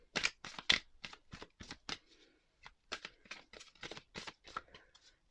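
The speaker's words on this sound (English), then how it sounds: "let's give this a shuffle." A deck of oversized tarot cards being shuffled by hand, a series of crisp riffling bursts in quick rhythmic clusters, close and clear with short pauses between.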